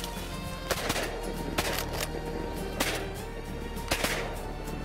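Shotgun blasts while hunting ring-necked pheasant. Four sharp cracks come at irregular intervals over a steady outdoor background, moderately loud and slightly distant, with no voices.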